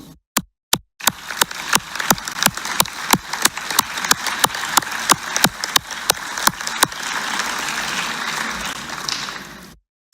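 An assembly audience at a solemn session applauds, beginning with a few sharp, evenly spaced claps that swell into dense, sustained clapping before stopping abruptly.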